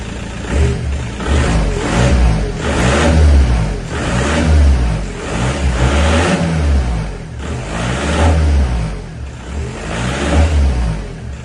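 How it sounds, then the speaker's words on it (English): A 1.9 TDI diesel car engine with an open air filter revs repeatedly under load, handbrake on and clutch slightly lifted, its loud throaty roar swelling and easing in a rough rhythm of about five surges, close by. "I'm going to put the handbrake on and rev the car as well as slightly lift the clutch"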